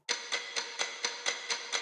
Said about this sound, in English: We're introducing a countdown clock,